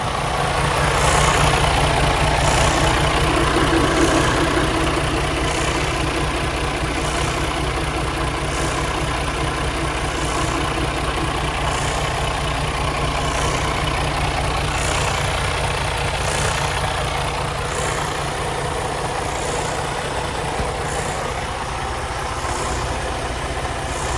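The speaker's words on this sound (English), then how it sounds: "let you hear the engine run" A 2020 Freightliner Cascadia truck with a DD15 engine idles steadily and loudly for the whole stretch, a constant low rumble with faint regular ticking above it and no one talking.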